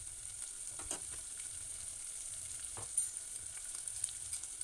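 Onions frying in a pan for a young goat head curry, a soft, continuous sizzle up close, broken by a few faint stirring knocks, with no talk.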